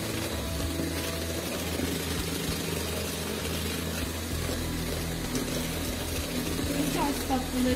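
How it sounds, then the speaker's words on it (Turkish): An electric mixer whisks sugar and eggs for a sponge dessert with a steady, loud mechanical whir and rattle that continues throughout, with a voice talking faintly over it. "şekerimizi ve yumurtamızı aynı pandispanyamızı yaptığımız gibi en baştaki yaptığımız işlemleri çırpmaya başlıyoruz"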